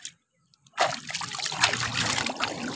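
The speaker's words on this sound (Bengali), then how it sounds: "হাতটা ধুয়ে নিচ্ছি," Hands being rinsed under a steady trickle of water, splashing and dribbling continuously after a sudden start, close by and moderately loud with no talk.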